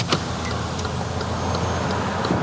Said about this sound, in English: You've got a car from the left